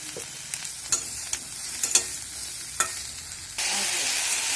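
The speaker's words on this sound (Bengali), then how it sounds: "কেটে ধুয়ে রাখা ঝিঙা ছেড়ে দেবো। একটু ভালো করে মিশিয়ে নেব।" Sliced ridge gourd being stirred in a frying pan, sharp utensil scrapes and clinks over a low sizzle, then a sudden louder, steady burst of frying hiss near the end.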